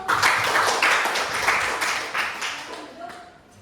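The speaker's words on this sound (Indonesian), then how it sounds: "Tepuk tangan dulu." Classroom applause from students, a burst of clapping that stays fairly even and then fades over a few seconds, moderately loud, with no one speaking.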